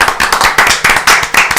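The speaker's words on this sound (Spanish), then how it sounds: "¡Aplausos! Aplausos." Hands clap in a quick, steady rhythm, loud and close, forming a brief burst of applause with no talking.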